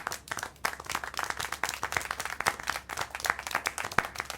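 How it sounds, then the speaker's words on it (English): Applause and clapping in the video game Syberia: The World Before, a steady patter of many overlapping hand claps sustained throughout at moderate level, with no talking. "How can you clap?"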